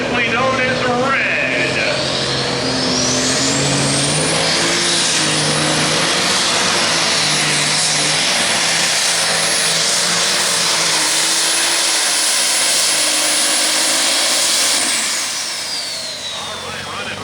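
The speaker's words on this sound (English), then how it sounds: "We've got the tractor simply known as Red." A light super stock pulling tractor roars at full power during a pull at a Hillsboro, Wisconsin event, its engine building to a loud, sustained high-pitched whine before easing off, while an announcer talks over it.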